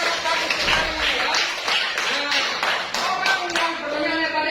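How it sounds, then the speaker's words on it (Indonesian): Applause from a classroom audience during a religious education teaching session, scattered claps and taps over a few seconds, mixed with speech. "berikan tepuk tangan dulu"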